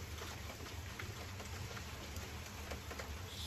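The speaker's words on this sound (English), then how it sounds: "I figured the rain was enough noise." Soft, steady rain falling outdoors, an even low hiss with faint scattered drops, heard from indoors at a distance and quiet throughout.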